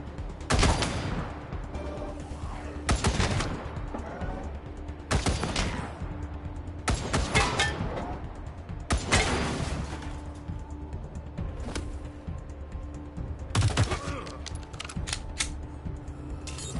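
Gunfire in the video game Wasteland 3 rings out in loud, sharp bursts of rapid shots, repeated about every couple of seconds with quieter clatter between them.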